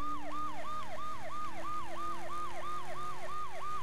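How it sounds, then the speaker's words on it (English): Police car siren from the video game Saints Row The Third, a steady repeating wail cycling about three times per second, loud and continuous with a low engine drone beneath, no talk. "People actually get out of your way, too, when you have lights and sirens on"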